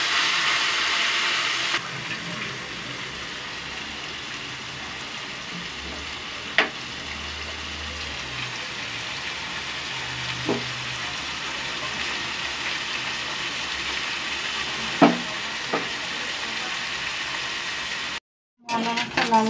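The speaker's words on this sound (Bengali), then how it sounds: "এবার আমি মরলা মাছটাকেও ভেজে নেব" Small morola fish fry in hot oil in a home kitchen, giving a steady, close sizzle throughout. Occasional clinks of a utensil stirring or turning the fish rise above it.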